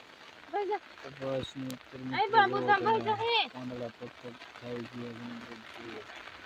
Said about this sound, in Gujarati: જોઈ શકો છો તમે વરસાદ આવી ગયો છે